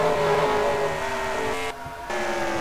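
Race cars in a stock car racing video game roar past at speed, a steady engine whine with a brief dip before the noise returns, no voices.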